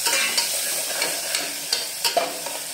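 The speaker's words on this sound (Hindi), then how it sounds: "लहसुन, अदरक और हरी मिर्च का पेस्ट अच्छे से भून लेंगे।" A paste of garlic, ginger and green chili fries in a pan with tomatoes for a bottle gourd and chana dal curry, a close continuous sizzle punctuated by quick scraping stirs of a spoon.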